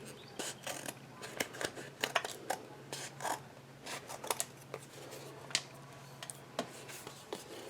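Scissors cutting paper pieces for a hot-foil card background, with quiet, close snips and rustles at an uneven pace and no talking.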